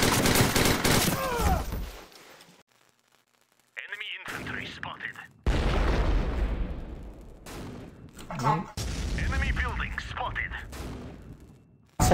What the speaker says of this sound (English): They're shelling it.